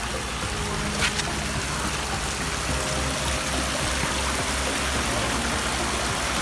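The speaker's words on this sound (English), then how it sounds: "Check out these falls." Water cascades down a pond waterfall built with Aquascape Waterfalls 6000 spillways, making a close, continuous rushing and splashing that stays steady throughout.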